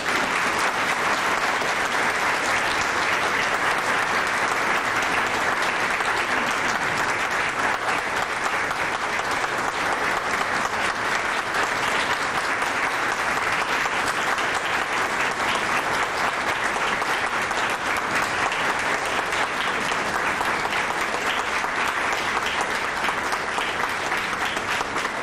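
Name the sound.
audience applause at an education congress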